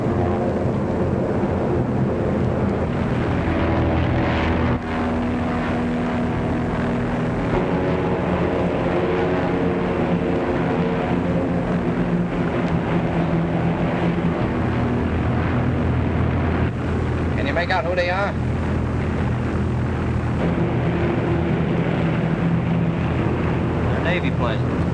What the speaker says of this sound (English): Navy planes.